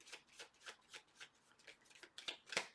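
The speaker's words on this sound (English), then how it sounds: "I'm going to do one more shuffle." Tarot cards are shuffled close by in a quiet room, a soft run of regular riffling bursts that ends in a couple of sharper snaps.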